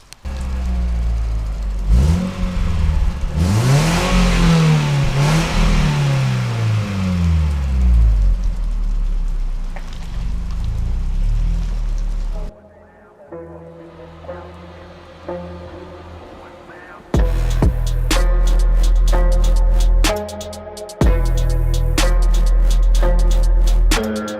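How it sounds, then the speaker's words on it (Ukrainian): An Opel Omega B with a carbon-fouled, sluggish engine, heard close as the revs rise and fall in a loud sweeping surge, then a quieter idle and further loud revving bursts with sharp clatter. "Є в нас пацієнт Opel Omega B, трошки задавів мотор."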